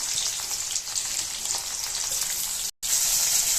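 Onion paste sizzles in hot oil with cumin seeds for a raw fish curry, a loud, steady hiss of frying that breaks off for a split second.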